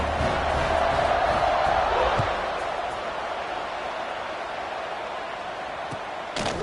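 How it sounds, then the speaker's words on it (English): Stadium crowd in the College Football 26 video game buzzing after a score, a dense, steady roar of many voices that swells early then settles to a continuous wash, with faint thumps underneath. "this crowd is buzzing after that last score"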